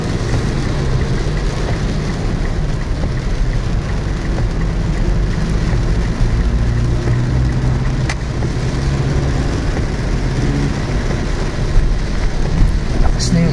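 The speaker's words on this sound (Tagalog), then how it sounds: "Lakas na yung ulan." Heavy rain pouring onto a road in Quezon City, a dense, steady wash of noise close by with wind buffeting and passing traffic, under a man's speech.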